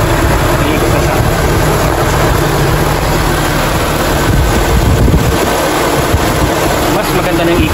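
A car radiator cooling fan spins steadily nearby, producing a loud, constant whooshing rush of air with a faint mechanical hum underneath and no speech.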